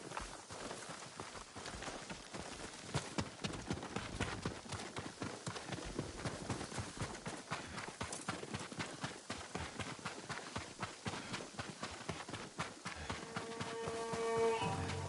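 Horses gallop in the video game Ghost of Tsushima, a fast, steady clip-clop of hooves that stays prominent and close for the whole stretch before a musical tone rises near the end.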